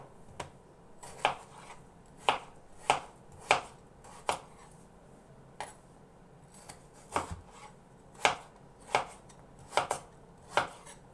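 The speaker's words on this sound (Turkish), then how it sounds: "Hemen doğramaya geçiyorum." Steady knife chops through carrot and garlic on a cutting board, about a dozen sharp taps at a loose, uneven rhythm, close and fairly quiet, with no voices.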